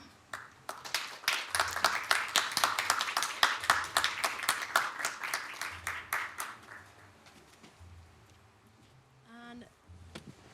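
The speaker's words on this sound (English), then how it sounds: "let's give one more round of applause to our last speaker of the day" A conference audience at a fashion talk breaks into sustained applause, dense clapping that swells loud early and then thins out to scattered claps, with a brief voice near the end.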